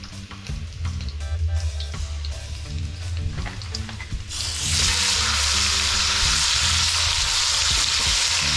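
Garlic frying in a pan for homemade Jamaican jerk sauce, a steady close sizzle that swells into a loud, dense hiss partway through, with faint stirring clinks early on.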